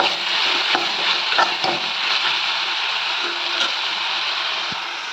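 Tomatoes sauté in a pan for a Tamil Nadu potato stir-fry, giving a steady, loud sizzle with faint stirring scrapes throughout.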